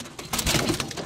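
An imported pigeon gives a single short, low coo, close and fairly soft, in a quiet loft.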